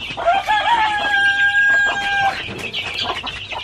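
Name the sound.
native chickens clucking and crowing on a farm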